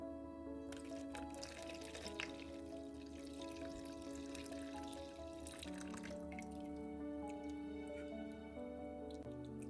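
Beetroot and carrot juice drips and trickles through a strainer as a spoon presses out the last liquid, with irregular wet drips and soft squishing sounds, close and fairly quiet, with no voices.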